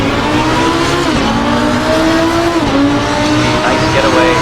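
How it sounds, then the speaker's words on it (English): A Lamborghini Huracan race car launches from the start of an endurance race at Watkins Glen in a racing video game, its engine roaring loud and close with rising revs and gear shifts while a commentator talks over it. "This is the Huracan of Andrew Moreau for the race start."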